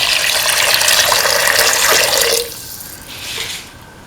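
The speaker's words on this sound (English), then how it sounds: "Now pouring 300 ml of water." About 300 ml of water gushes loudly into a potato, green pea and coconut stew, a strong, close, continuous pour for roughly two seconds that then cuts off, leaving a faint trickle.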